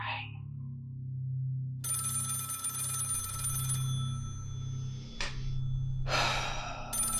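A telephone rings in a quiet home, its tone repeating through several short bursts, with soft breathing and a sigh nearby and no talking.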